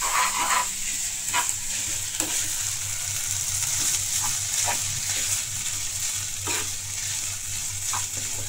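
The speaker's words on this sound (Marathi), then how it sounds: "आणि जे व्हेजिटेबल्स आणि नूडल्स आहेत हे आपल्याला मिक्स करून घ्यायचे" Street-style vegetables and noodles being stir-fried together in a hot pan: a steady, close sizzle with scraping strokes of the spatula repeating every second or so, and a low hum underneath throughout.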